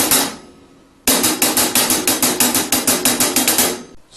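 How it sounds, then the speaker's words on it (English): A drum hi-hat played in crisp 16th-note double strokes, a quick burst then a pause before a steady run of bright, even, close-up metallic ticks continuing without talk. "So on the and, I'm going to play a double stroke like this."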